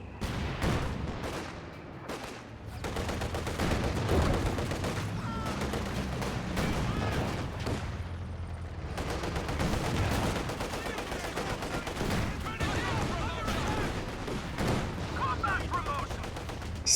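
An artillery barrage in a competitive strategy video game match, a long continuous rattle of rapid gunfire and blasts at moderate volume, with scattered sharper bangs and brief lulls.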